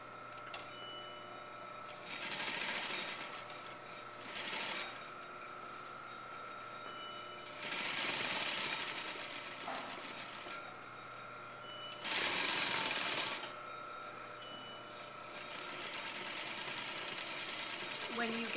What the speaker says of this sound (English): So sew slowly and carefully down.